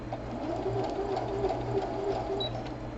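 A home sewing machine started by push button rather than foot pedal, running continuously at a steady even hum with a fast rhythmic stitching pulse throughout, close and alone.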